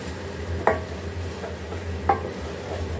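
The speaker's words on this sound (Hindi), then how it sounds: "प्याज डाल लेंगे और इसको हम अच्छे से मिक्स कर लेंगे। 2 मिनट हम इसको फ्राई कर लेंगे।" Chopped onions fry in a pan for a beef keema and bitter gourd dish, a soft low sizzle under a steady hum, with two distinct clinks of a spoon stirring against the pan.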